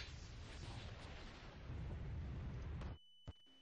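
A loud, sustained roaring blast from a bomb in Garry's Mod fills the scene for about three seconds, then cuts off abruptly, followed by a short, faint pop in near silence.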